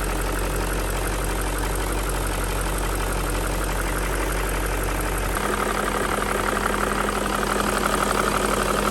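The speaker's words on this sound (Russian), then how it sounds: "Это мотор еще не прогрет. Сейчас прогреется, дизеление услышится еще больше." A BMW M62B35 V8 idles steadily up close while still cold, with a faint rhythmic knocking from the VANOS under a constant broadband engine drone; the tone shifts slightly partway through.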